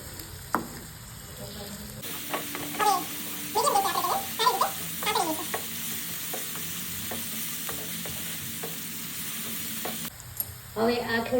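Finely chopped onions, three of them, sizzling and frying in a pan over garlic for paneer butter masala, a steady crackle with intermittent stirring scrapes, loud and close, with no speech.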